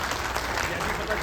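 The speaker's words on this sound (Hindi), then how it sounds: "एक बार बड़े भाई मनोज शौकीन जी के लिए सभी तालियां बजाएंगे।" A crowd at an outdoor political gathering in Kanishk Garden applauds, a brief dense burst of clapping that blends with a voice speaking over a loud sound system.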